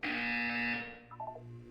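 A buzzer sounds in the Portal 2 relaxation center, a single loud, harsh electronic tone holding for under a second. Faint brief beeps and a low hum follow it.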